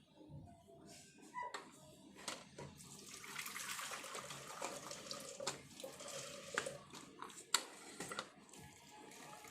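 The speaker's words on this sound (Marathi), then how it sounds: "तर व्यवस्थित आपण ही ज्वारी अशी गाळून घ्यायची आहे. या ज्वारीमधलं पाणी निथळलं पाहिजे." Soaked sorghum (jowar) grains being drained in a kitchen sieve, water splashing and trickling through in an irregular run of close wet bursts and drips, moderately loud with no talking.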